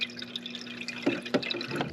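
Water trickling and dripping as it overflows inside an AeroGarden hydroponic planter, a quiet steady run of small drips with two louder plops near the end, no voices.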